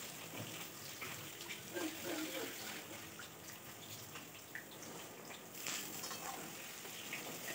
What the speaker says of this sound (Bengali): আমাদের বাড়িতে পনিরটা একটু ভেজে নিতে হয়।